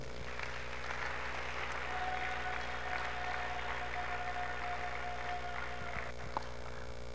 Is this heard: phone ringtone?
no